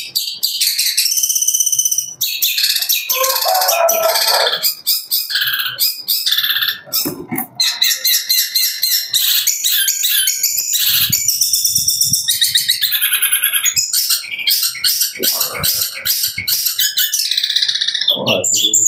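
Long-tailed shrike singing at a bird contest, delivering rapid, dense bursts of high chirps and varied mimicry almost without pause, loud and close, with insect and other bird sounds faint underneath.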